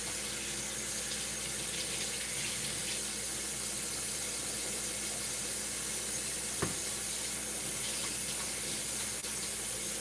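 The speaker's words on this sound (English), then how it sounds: "Let me give my hands a quick rinse." Steady tap water runs into a kitchen sink as hands are rinsed, a continuous even hiss with one brief knock partway through, no talking.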